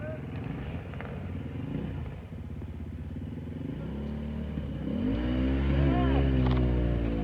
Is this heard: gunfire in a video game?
no